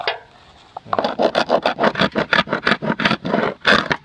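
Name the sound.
scraping old peeling paint off wood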